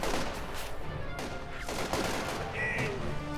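Gunfire in a Company of Heroes 2 battle as fleeing Panzer gunners are chased off the field: dense, continuous rattle of rifle and machine-gun shots with scattered impacts, loud and steady throughout.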